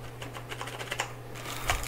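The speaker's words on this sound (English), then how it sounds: "Oh my god, that's my first mechanical keyboard." Quick, uneven clacking keystrokes from a Corsair K70 RGB mechanical keyboard, close but fairly quiet, over a low steady hum with no talking.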